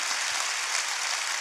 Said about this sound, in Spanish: Dale un fuerte aplauso a la gente que nos ve en casa